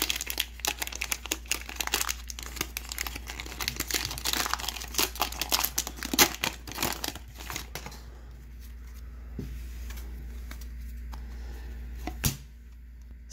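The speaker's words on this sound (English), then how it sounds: "Let's open up some football cards, shall we?" Close, loud crinkling and tearing of plastic wrap as a 60-card hanger pack of 2022 Panini Prestige football cards is ripped open, a busy crackle that thins out toward the end with a few sharper snaps.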